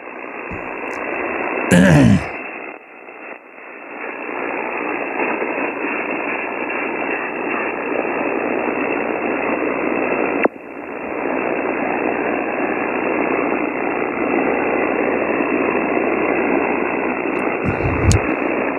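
Steady radio static on the 40 meter amateur band hisses and roars continuously, broken by a couple of brief clicks and dropouts, with a faint tuning squeal near the start.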